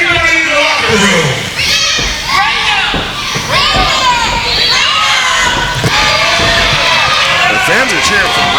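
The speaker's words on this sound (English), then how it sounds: "The fans are cheering for Reyno" A crowd of wrestling fans, many of them children, cheers and shouts loudly and continuously at a live PCW Limelight show, a dense, high-pitched roar throughout.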